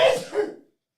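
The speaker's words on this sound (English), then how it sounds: "If you're going to sneeze like a man." A single close, sharp sneeze bursts out loudly at the start and fades within a fraction of a second, followed by silence.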